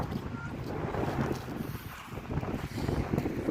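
Steady wind blows outdoors beside a road with a cycle path in Denmark on a cold, dry day, a broad continuous rush buffeting the microphone at even loudness throughout, with no voices.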